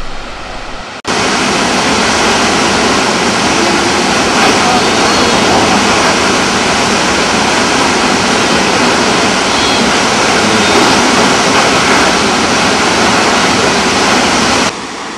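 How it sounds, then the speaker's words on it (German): Roaring water from the Krimml Waterfalls in Austria, a three-tier fall 380 metres high, forms a loud, dense, unbroken rush that starts abruptly after a second and runs steadily until just before the end. "Die Krimmler Wasserfälle bestehen aus 3 Stufen und erreichen eine Höhe von 380 Meter."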